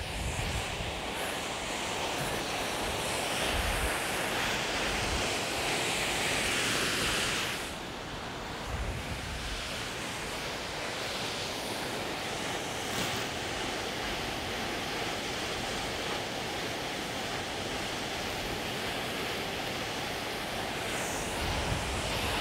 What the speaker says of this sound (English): Beautiful to see the sands here and this crazy waterfall here.